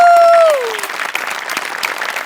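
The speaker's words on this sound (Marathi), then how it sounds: "डांगे, दशरथ आणि आपले सगळे सेटिंगवाले यांच्यासाठी एकदा जोरदार टाळ्या" A studio audience at a Marathi comedy show applauds the set crew with loud, dense clapping that follows a short electronic tone and stays steady to the end.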